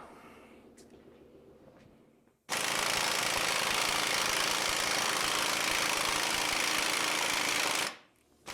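An impact tool rattles loudly and continuously for about five seconds while removing a bolt from the rear suspension of a 1956 International COE truck, after quiet shop ambience, then stops abruptly.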